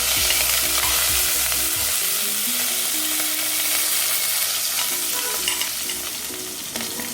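Small onions, green chili and curry leaves sautéing for koorkan kilangu sambar, a loud continuous sizzle with repeated stirring scrapes of a spoon against the pan, fading slightly toward the end, no speech.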